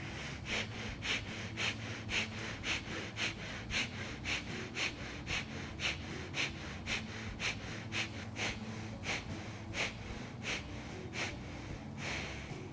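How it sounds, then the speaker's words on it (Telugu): Slow, deep yoga breaths, inhaling and exhaling through the nose in a regular rhythm, close and clear with no talking. "ఇప్పుడు మనము వేరే సైడ్ నుంచి శ్వాస తీసుకుంటూ వదిలేస్తూ ఉండాలి."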